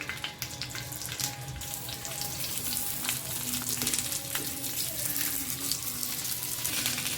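Stuffed green chillies frying in a little oil on a hot tawa: a steady close sizzle with crackling and spitting that continues throughout and grows slightly louder.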